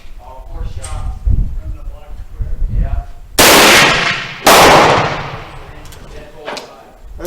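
Two loud, sharp gunshots from a Remington rolling block rifle chambered in Swedish 8x58R ring out about a second apart, each decaying quickly, after a stretch of quiet talking.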